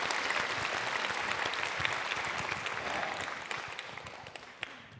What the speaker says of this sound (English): Oh, my clapping, yeah.